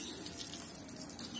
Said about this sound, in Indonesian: Kita cukup siram seperti ini, mudah saja.